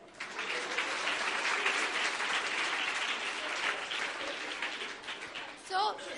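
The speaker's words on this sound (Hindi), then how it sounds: "अरे ताली बजाओ यार" An audience at a career fest breaks into sustained applause, many hands clapping in a dense, even wash from mid-distance, fading near the end as a voice briefly cuts in.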